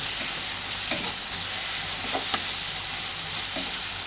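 Grated onion and garlic paste frying in oil with bay leaf for a coconut milk prawn malai curry, giving a continuous dense sizzle with a few soft stirring knocks, close and steady, with no voices.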